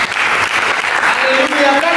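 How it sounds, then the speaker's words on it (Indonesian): A church congregation claps together during a worship service, a loud, continuous wash of many hands that persists throughout, with faint tonal sounds and voices mixed in toward the end. "Berikan tepuk tangan."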